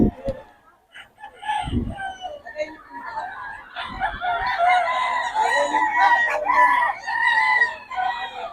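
Roosters from Nueva Ecija crowing repeatedly, with chickens clucking around them, loud and close, with a few brief voices in between.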